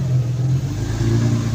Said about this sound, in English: See, has a misfire. It's a misfire.